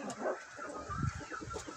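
Black Copper Marans rooster and hens in a farmyard give short, close clucks and soft murmurs, a few brief calls in quick succession at modest loudness.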